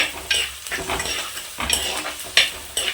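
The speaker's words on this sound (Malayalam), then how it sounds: "ഇനി ഇതൊക്കെ നന്നായി വഴണ്ട് വരട്ടെ" Crushed shallots sautéing in a pan during Kerala-style cooking, a soft continuous sizzle broken by repeated scraping strokes of a spatula stirring, close up with no talk.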